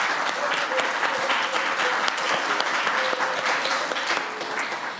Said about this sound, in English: let's give all of them a round of applause real quick